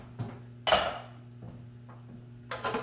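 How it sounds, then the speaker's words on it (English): A spatula scrapes a mixing bowl from a mixer in short, distinct bursts: a light tap, a longer loud scrape, a few soft knocks, then another scraping sweep, all close up. "I'm going to get my spatula because we do need to scrape this."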